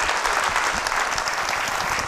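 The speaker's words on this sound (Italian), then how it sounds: "naturalmente un applauso anche alle sue fantastiche atlete" Audience applause for a team of gymnasts at a civic event in Italy, a dense, steady wash of clapping that holds at an even level for the whole two seconds with no voices above it.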